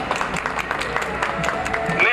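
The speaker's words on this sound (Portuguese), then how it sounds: "neste momento solene, palmas, por favor" A crowd claps at a solemn ceremony before the unveiling of a bust, a steady patter of applause with some speech mixed in.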